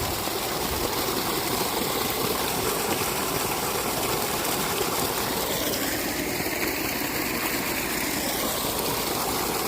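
Water pumped by a 7.5 motor pours out and flows along a channel in a farm field, a steady gushing rush over a low engine drone, continuous and fairly close with no talk.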